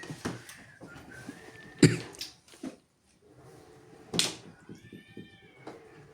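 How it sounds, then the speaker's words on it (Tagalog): A cat meows a few times at a distance during a mahjong game, short tonal calls mixed with tile clatter and quiet room noise. "Pusa yun eh, Natalie."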